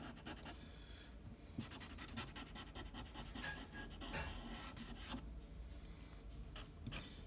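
A Sharpie marker scratches and rubs steadily across a paper mask design, a continuous close rasping that keeps going throughout with no talking.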